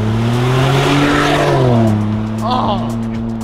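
A straight-piped Ford Bronco Sport with a 1.5-liter three-cylinder engine revs and holds a loud, raspy, droning exhaust tone, rising and falling in pitch close by.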